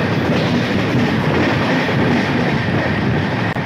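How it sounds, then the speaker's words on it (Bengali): Steady, loud rumble and clatter of the Howrah–Bolpur Shantiniketan Express running along the tracks, heard from inside the carriage as a continuous roar with rhythmic wheel clicks. "আমাদের ট্রেন এখন ডানকুনি পাস করছে"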